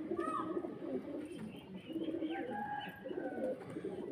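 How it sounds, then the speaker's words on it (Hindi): A pigeon in Karachi, a long-tailed bird with yellow eyes and a white beak, coos softly in a low repeated murmur, with other birds chirping faintly over steady background noise. "गाइस, ये तीसरा कबूतर है"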